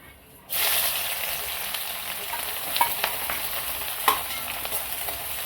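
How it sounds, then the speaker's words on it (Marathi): Sliced onions drop into hot oil in a kadhai, already used for frying cashews, while preparing chicken biryani. A sudden loud sizzle starts and holds as a steady, dense crackle, with a few sharp pops from stirring. "नंतर त्याच कढईमध्ये आपण त्याच तेलात कांदा टाकू।"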